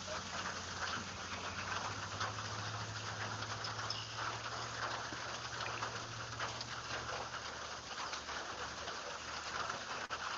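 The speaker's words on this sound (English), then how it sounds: "all this rain is pretty much the worst thing you want to happen if you're saltwater fishing" Steady rain falling outdoors on the coast, a constant close hiss of drops on surfaces with a low engine-like hum underneath, unbroken throughout.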